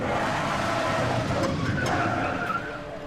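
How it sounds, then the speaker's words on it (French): A car on the TV series Fargo brakes hard, its tires skidding in a loud, sustained screech that fades toward the end, heard through a television with no talk over it. "il a failli défoncer les voitures de keuf hein, en freinant"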